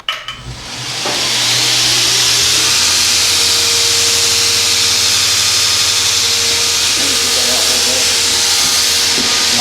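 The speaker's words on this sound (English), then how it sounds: "So we start off trying to grind the line first." An angle grinder cutting a bevelled line runs at a steady, loud, hissing whine for nearly the whole stretch, starting abruptly and staying continuous without pause.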